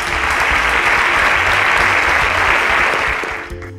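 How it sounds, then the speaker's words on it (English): Audience applause for a contestant at a live-streamed talent semi-final, a loud steady burst of clapping that holds for a few seconds, then tapers off toward the end. "Okay, round of applause for Victoria."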